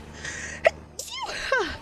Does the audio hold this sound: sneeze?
yes